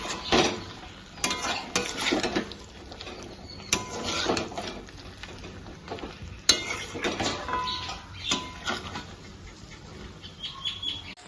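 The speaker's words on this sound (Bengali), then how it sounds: "পটলগুলো দিয়ে আরো কিছুক্ষণ নাড়াচাড়া করবো।" Pointed gourds fry in spice paste while being stirred, with intermittent scraping of a utensil against the pan over a soft, fluctuating sizzle, no voices.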